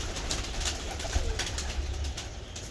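Soft, low pigeon coos repeat a few times close by, set against a faint background hiss, with no talking.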